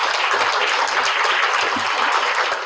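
An audience at a Sungkyunkwan University vision forum applauds to welcome a guest speaker, a dense, loud, sustained burst of clapping from many hands that tapers slightly at the end.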